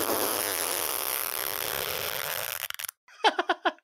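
A brief wet fart sound with a bubbly, sputtering tail comes after a few seconds of steady loud noise and then a short gap, ending in several quick spluttering bursts.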